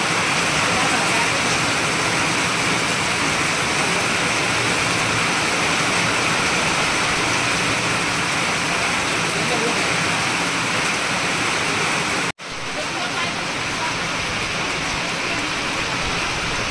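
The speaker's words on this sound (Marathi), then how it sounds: "पाऊस काय थांबत नाही हा." Heavy monsoon rain pours near Kankavli on a railway journey, a dense, loud, unbroken hiss of drops on surfaces that holds steady throughout, apart from one momentary cutoff near the end.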